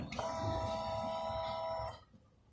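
A Honda Click 125i scooter's fuel pump priming after the key is switched on gives a steady electric buzz with a tonal whine, lasting under two seconds, then cutting off to quiet, close by.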